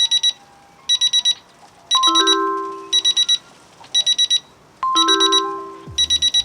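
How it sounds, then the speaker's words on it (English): An electronic meat thermometer alarm (ThermoWorks BlueDot) beeps in rapid bursts of four, repeating steadily, alternating with descending synthetic tones. Loud and close, no voices. "our alarms have gone off"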